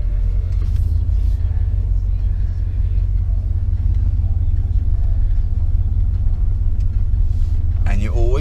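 Classic Ford F150 pickup with a 5.0 V8, a steady deep engine rumble from inside the cab as it pulls away and drives, with a few faint clicks and a brief sound near the end.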